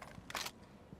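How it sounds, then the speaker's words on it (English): Magazine swap on a weapon in Rainbow Six Mobile, a short mechanical click followed by a louder metallic clack, quick and close. "Swapping mags."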